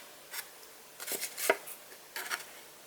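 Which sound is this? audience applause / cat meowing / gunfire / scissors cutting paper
scissors cutting paper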